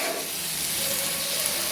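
Cabbage cooking with fish head in a pan gives a steady, close sizzle and hiss of steam that holds evenly throughout, with no talking.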